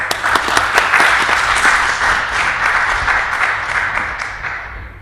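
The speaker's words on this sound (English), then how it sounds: "Let's have a warm round of applause for her" A room of guests gives a warm round of applause at a reception honouring the High Sheriff of Bristol, loud, dense and sustained, with several sharp claps at the start before it slowly thins.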